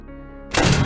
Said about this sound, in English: Oh, that's how you close the door.